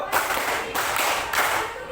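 A group claps together in a quick, steady rhythm during a classroom ice-breaker chant, the dense clapping loud and continuous throughout.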